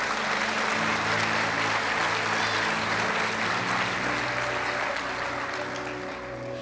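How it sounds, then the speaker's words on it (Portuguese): Loud, sustained applause from a large church congregation fills the space, steady throughout with music faintly underneath, tapering slightly toward the end. "Dê um aplauso para Jesus."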